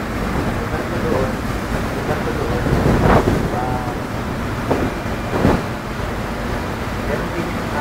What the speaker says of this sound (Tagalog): Ito yung alon